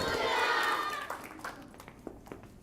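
A school audience at an anti-bullying assembly cheers and applauds to welcome a guest speaker. The noisy burst fades within a second into a few scattered, separate claps, with voices and children calling out underneath.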